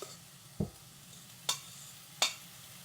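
Cooked rice is tossed with veggies in a pan: three sharp scrapes and clatters of a utensil against the pan over a faint quiet sizzle, close up.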